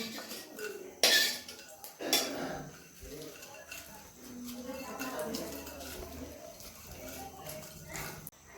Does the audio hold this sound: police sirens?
no